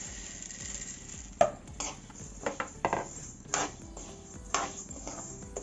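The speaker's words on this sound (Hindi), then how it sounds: "अब हम दाल को भून लेंगे।" Horse gram dal is dry-roasted in a pan, with scraping stirs and clinks of a spoon against metal coming in uneven bursts over a faint background hiss.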